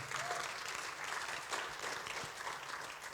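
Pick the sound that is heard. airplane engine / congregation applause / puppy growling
congregation applause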